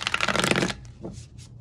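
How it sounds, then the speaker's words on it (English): A thin-cardstock Simpsons tarot deck is riffle shuffled in one quick, dense burst of fluttering card clicks, followed by a few soft taps as the cards settle. "Let me just shuffle it like this."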